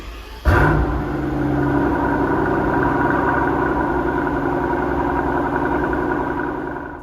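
A Mercedes S65 V12 engine fires with a sudden burst and then settles into a smooth, steady, low idle rumble. The idle holds evenly throughout, with no other sounds.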